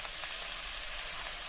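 Onions and iruvachi flowers sauté in a hot pan, a steady close sizzle and fry hiss running unbroken, with no voices.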